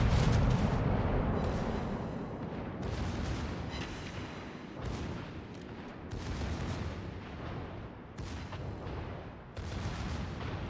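Secondary batteries on a warship in World of Warships firing repeatedly, a dense run of booming, rumbling salvos that keep overlapping for the whole stretch, loud and close with no talking.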